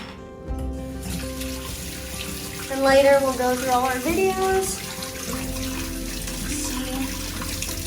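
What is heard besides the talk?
tap water running, rinsing salt water off surf gear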